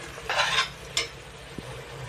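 Coriander and mint are mixed into biryani in a pot with short rustling scrapes, a brief swish, and a small metallic tap over a low background hum.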